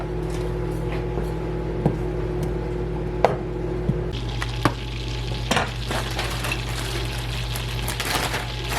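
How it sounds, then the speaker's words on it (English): A stick of butter melts in a pan with a soft sizzle and faint frying crackle, broken by a few sharp utensil clinks against the pan; no one speaks. "we're going to melt a stick of butter"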